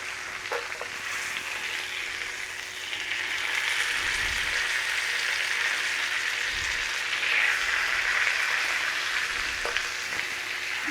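Pork chops pan frying on the bone, a steady close sizzle and spatter held at an even level with a few soft low thumps from the pan, no talking.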